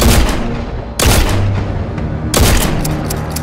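Shotgun blasts from Destiny 2 recreated in Rec Room: three loud, booming shots spaced about a second apart, each with a short, heavy decay.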